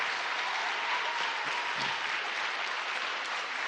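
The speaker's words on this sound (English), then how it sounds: "Big round of applause." A church congregation applauds in a steady, sustained burst of clapping that continues throughout at an even level.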